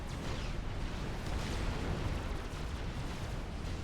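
An explosion from a missile strike in a real-time strategy game fills the clip with dense, sustained, rumbling blast noise at steady loudness, with no clear breaks.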